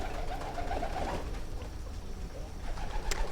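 A pigeon coos softly a few times against steady indoor background noise, faint and fairly close.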